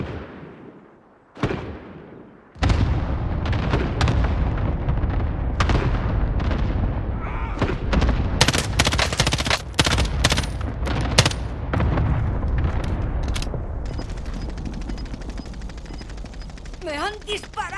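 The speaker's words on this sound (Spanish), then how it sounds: "Ataque racimo aliado en marcha." Video game battle noise from an allied cluster strike, with a rapid string of loud, sharp explosions and gunfire bursts close by that keep going almost nonstop after a short quiet start, ending in busy crackling.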